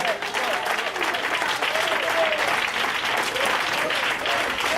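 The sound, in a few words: congregation applauding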